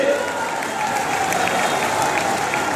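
A large crowd at a public rally in Banda applauds loudly and continuously, a dense wash of clapping with faint murmuring and a few voices in the background.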